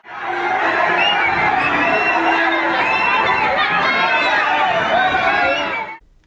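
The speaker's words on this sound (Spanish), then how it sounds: "le llovieron abucheos de quienes acudieron a la inauguración de la vía federal de Puerto Escondido" A large outdoor crowd at the opening of a federal road in Puerto Escondido, Oaxaca, booing and jeering former governor Alejandro Murat, a loud, sustained roar of many voices for about six seconds, then cutting off abruptly.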